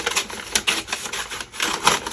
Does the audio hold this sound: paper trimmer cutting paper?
yes